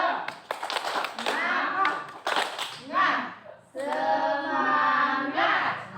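A group claps the rhythmic Indonesian 'tepuk semangat' pattern at a training session, crisp patterned hand claps in quick bursts mixed with voices calling out.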